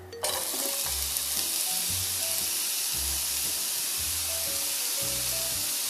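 Food for yakisoba fries in a hot pan, a loud continuous hissing sizzle that starts abruptly and holds steady for several seconds, with low rhythmic rumbling pulses beneath and no talking.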